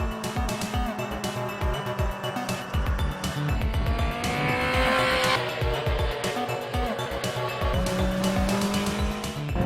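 A Honda race vehicle on a circuit revs hard and shifts gears on the fly with an automatic throttle blip, engine screaming loud and close with rapid rising pitch sweeps and tire noise throughout.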